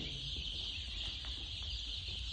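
A constant chorus of poultry chicks peeping fills an enclosed shed, with soft clucks and a low background hum.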